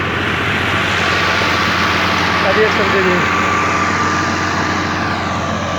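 An Alghazi tractor pulls a 60-blade rotavator while preparing potato ground, its engine a steady, fairly loud drone throughout, with someone talking over it.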